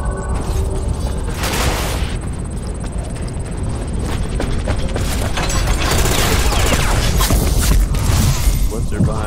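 Gunfire in the online shooter Ghost Recon Phantoms: dense, loud rattling bursts and booms layered over continuous game noise and mechanical clatter, running the whole stretch.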